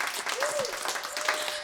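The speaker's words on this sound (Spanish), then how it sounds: "Un aplauso para Daniela," Brief audience applause for a guest on a talk show, a short burst of clapping from a small crowd with a voice or tone rising briefly over it.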